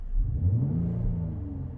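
A 2020 Mercedes GLC 43 AMG with a performance exhaust gives a short, deep rev that rumbles and swells, then settles into a lower idle, heard moderately close without talking.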